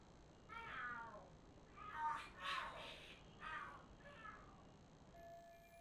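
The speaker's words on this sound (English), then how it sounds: "The hell are there cats fighting? What are they screaming for?" Cats fighting and screaming in the Lost Judgment video game: a series of drawn-out, wavering yowls rising and falling in bursts, moderately loud over a quiet background.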